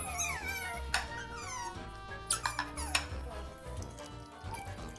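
Sea otters squeak and chirp in a busy, high-pitched chatter, with repeated sharp squeals and whistling calls overlapping one another at close range.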